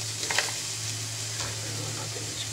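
Onions sizzle steadily in a hot pan while crab is cooked in coconut milk, a continuous close hiss of frying with a few brief stirring scrapes near the start.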